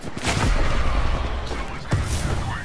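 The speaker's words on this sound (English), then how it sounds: "I'm taking shots." Gunfire in the Apex Legends video game during a Season 5 fight: loud, dense bursts of shots and booming impacts fill the stretch, with a sharp extra crack near the end, while a voice speaks briefly underneath.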